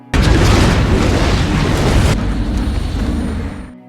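A gas explosion set off by a spark in a film scene hits as a sudden loud boom, then a dense roaring blast and rumble that cuts back after about two seconds and fades out.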